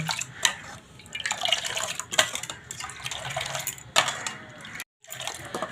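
A ladle whisks and pours milk for homemade tok doi, giving continuous splashing and dripping with sharper splashes and a brief break near the end; no voices.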